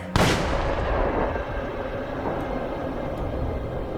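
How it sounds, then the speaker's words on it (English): A single loud gunshot fired at point-blank range during a 1918 cabin shootout in Arizona, a sharp crack followed by a long rumbling decay, with no other sound after it. "I just stuck the barrel of my gun in his belly, and I pulled the trigger."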